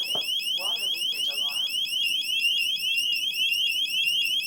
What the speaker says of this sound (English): Warning, water leakage alarm.